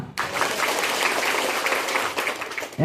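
Audience applause at a Rohingya refugee camp gathering, a dense burst of clapping that starts abruptly and holds steady for a few seconds before cutting off.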